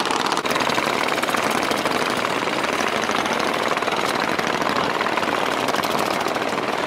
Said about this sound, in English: The noise here is from the cross river sampans.